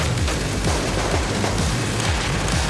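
Rapid, continuous Gatling gun fire in a video game, a dense loud rattle of shots with low booms underneath, unbroken throughout.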